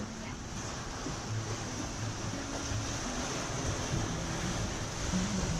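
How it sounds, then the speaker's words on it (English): A steady breeze blows over a flat sea in the South-West Pacific, a soft continuous rush of wind with faint lapping waves and a low hum underneath, even and unbroken. "Nice flat sea, nice steady breeze, really lovely."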